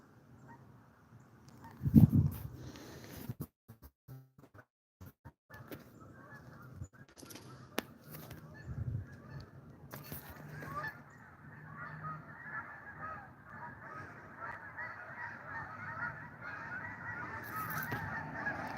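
A flock of geese honks continuously in the distance, the calls building and overlapping, with a few nearby thumps and rustles early on.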